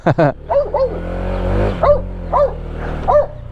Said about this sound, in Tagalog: Ang ganda ng aso, American Bully.